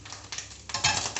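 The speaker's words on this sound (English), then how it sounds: "Can you hear it sizzling, cooking?" Food frying on high heat in a pan for a quiche, giving a steady broadband sizzle with brief stirring or scraping clatter, close and loud, with no talk.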